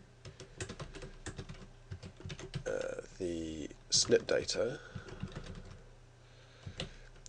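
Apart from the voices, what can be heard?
typing on a computer keyboard into the Python interpreter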